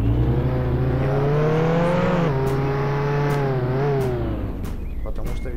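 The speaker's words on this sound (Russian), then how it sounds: "Наконец-то машина едет." A car driving in the Roblox Jailbreak video game, its engine a steady loud drone that shifts pitch midway as it accelerates, with a few sharp clicks toward the end.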